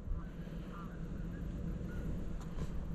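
Geese honk and call at a distance over a farm field sown with cover crop, with several short nasal calls over a steady low rumble of wind and outdoor noise.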